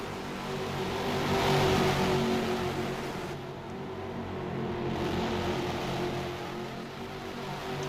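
Race car engines at Autódromo Internacional de Tarumã in a racing game, a steady droning roar of several cars that swells and fades gently as they run close together, with no talk.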